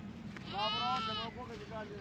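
Lambs and goats bleat on a rural trek, one clear, wavering bleat close by followed by a shorter, fainter one, over a low rumble with people talking.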